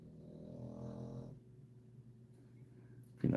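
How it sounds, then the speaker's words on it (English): A dog snores in one long, low, rumbling breath that fades out, fairly faint and close by in a quiet room, followed by a short louder bump at the end; no one speaks. "I think that was a snore of approval from the dog."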